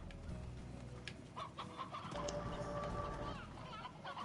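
Chickens cluck in the Slime Rancher video game, a busy run of short bird calls heard alongside game sounds and a talking voice.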